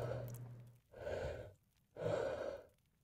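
Slow, heavy breathing heard from inside a protective suit in STALKER: Shadow of Chernobyl, two long breaths separated by short pauses, close and fairly quiet with no talking.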